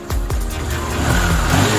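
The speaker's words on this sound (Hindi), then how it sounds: "साडी Honda shine fit sound check कर सकते हो, बिल्कुल क्लियर," A Honda Shine motorcycle engine runs close by, a steady mechanical drone that rises slightly in pitch as it revs, with no voices.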